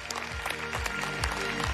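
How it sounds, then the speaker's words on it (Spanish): Studio audience applauding during the live winner announcement of Got Talent Uruguay, a dense, steady wash of clapping close up, with a voice faintly underneath. "Un aplauso grande para todos."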